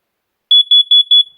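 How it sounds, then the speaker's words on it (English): A carbon monoxide alarm's test button sets off four short, piercing high beeps in quick even rhythm, close and loud. "the alarm will sound"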